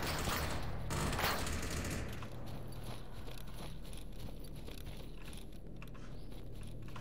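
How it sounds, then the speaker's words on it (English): Rapid bursts of gunfire in the STALKER video game crackle continuously, dense and fairly loud at first, then settle into a steady rattling background of distant shots. "someone else shooting at me?"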